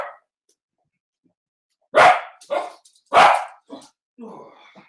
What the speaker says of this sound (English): I didn't even realize my dog was in here.